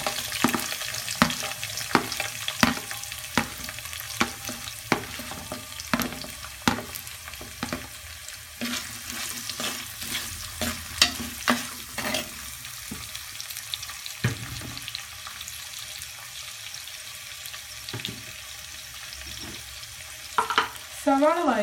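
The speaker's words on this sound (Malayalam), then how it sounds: "സവാള വഴറ്റാനിടുമ്പോൾ അല്പം ഉപ്പും കൂടെ ചേർത്താൽ പെട്ടെന്ന് സോഫ്റ്റായി വരും." Two large finely chopped onions with a little salt sautéing in a pan for chicken curry, a continuous close sizzle broken by repeated spatula scrapes and stirring knocks, with a brief watery splash near the end and no talk.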